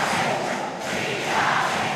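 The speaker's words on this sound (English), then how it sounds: "now the crowd is involved" Crowd cheering and roaring at a youth (18U) Junior MPBL basketball game between Cavite City and Bauan, a steady loud wash of many voices that swells toward the end.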